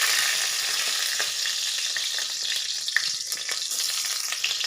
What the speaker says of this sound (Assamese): মোৰ এইফালে কেৰাহী গৰম হৈছে। এয়া কেৰাহীত তেল দিলোঁ